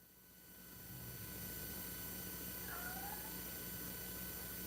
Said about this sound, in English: Cat, if you don't shut up.